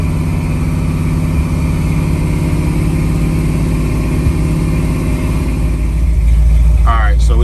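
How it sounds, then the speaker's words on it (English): A 1968 Camaro engine idles steadily with the throttle held slightly open, a loud, continuous low rumble close by that swells a little near the end, with no talking over it. "I've got my foot on the gas just a little bit to try to keep some gas flowing so it doesn't cut back off."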